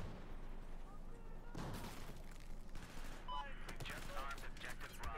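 Battlefield 4 gunfire in a Rush match, with bursts of shots and a rapid fusillade layered over a busy, loud game soundscape, broken by sharper cracks around the middle and the end.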